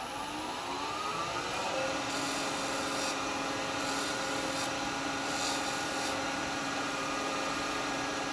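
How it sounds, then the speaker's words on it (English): Sandpaper rubbing against a small turned wooden lidded box spinning on a woodturning lathe, a continuous close scratchy hiss over the steady hum of the lathe motor. "if I touch it with a little bit of sandpaper,"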